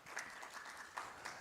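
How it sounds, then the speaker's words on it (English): A short burst of audience applause, many hands clapping together in a dense, bright patter at a moderate distance. "Have a nice round of applause for Ollie Jackson, ladies and gentlemen"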